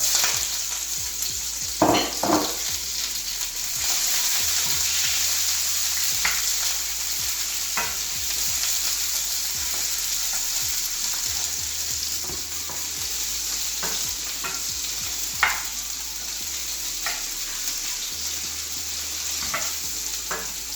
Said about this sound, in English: We're going to add our onions, stir them to soft and brown, but don't burn them.